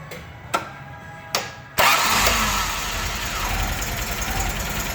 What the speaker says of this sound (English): starting up a fresh engine